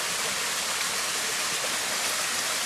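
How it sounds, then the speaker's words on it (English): A waterfall at the bottom of its drop, a loud, steady broadband rush of falling water with no other sounds. "And we've got to the bottom of the waterfall."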